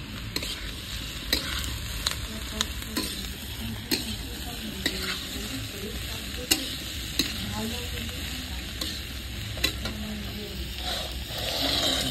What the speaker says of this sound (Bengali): পোস্ত আলুটা বন্ধুরা ভালো করে কষে নিচ্ছি